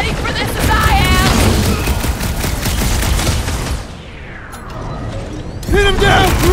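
Dense gunfire from Guardians of the Galaxy on PS5 crackles loudly through a battle against tanks, with mechanical rattles and impacts. It fades briefly, then picks up again. Character voices shout over the fighting.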